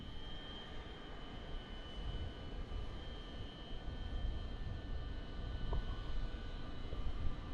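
A steady airliner engine roar in a flight simulator, a Ryanair departure from Marseille, with the throttle eased up and down. The drone is continuous and broadband, swelling slightly toward the end, with no talk over it.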